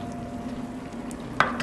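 Shrimp and zucchini sizzle in a hot pan, a steady frying hiss ending in a sharp clatter as the pan is tossed, no talking.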